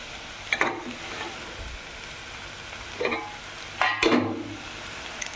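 Cooked rice stirred through carrots in an oiled frying pan for carrot rice, a steady soft sizzle broken by three or four scraping spatula strokes, close and moderately loud.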